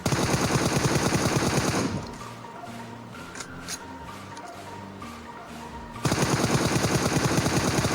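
Rapid automatic gunfire from a battle royale video game in a duo-versus-squad match bursts loudly for about two seconds, drops to quieter game sounds, then returns in another sustained rapid volley.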